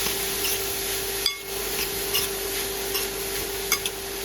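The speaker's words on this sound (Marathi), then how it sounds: "पूर्ण गाजर टाकून घेतलेलं आहे आणि आपल्याला छान मिक्स करून घ्यायचे तुपावरती" Carrots stirred and sautéed in ghee in a pan for gajar halwa give a steady soft sizzle with occasional stirring scrapes and clicks, close by, and a faint constant hum underneath, no talking.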